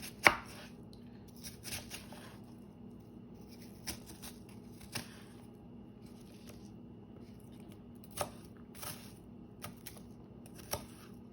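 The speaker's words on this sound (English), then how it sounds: "I'm going to cut it up into smaller pieces here." Knife chopping vegetables into smaller pieces on a board, scattered sharp taps in small irregular bursts with pauses between them, close but fairly quiet against a faint background hum.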